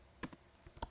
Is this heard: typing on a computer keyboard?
yes